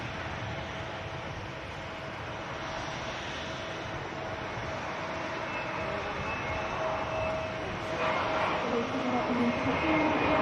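EasyJet airliner inbound from Amsterdam landing at Manchester Airport, a moderate jet rumble and whine that swells near the end, with faint voices talking underneath.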